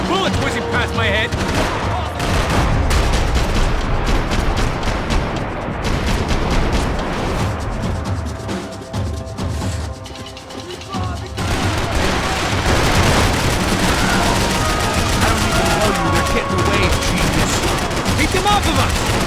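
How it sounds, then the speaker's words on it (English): Dense, continuous gunfire from a Max Payne 3 firefight, with fusillades and machine-gun bursts rattling throughout, punctuated by booms, and bullets whizzing close by, loud and sustained with brief shouted voices mixed in. "I can't concentrate with bullets whizzing past my head"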